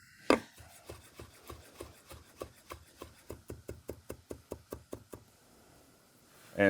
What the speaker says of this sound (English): and give them a rough chop.